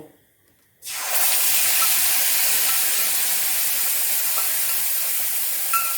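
Spiced yogurt is poured into hot ghee for a dahi arbi (taro) curry and sizzles at once: a loud, steady, hissing fry that starts abruptly after a brief quiet moment and keeps going without pause.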